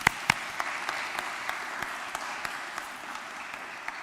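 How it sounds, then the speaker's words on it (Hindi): An audience at a Christian worship gathering claps in a soft, steady patter that sounds fairly distant, with a few sharper claps standing out, and no talking over it. "तो खुदावंद के लिए जोरदार तालियां बजा दी।"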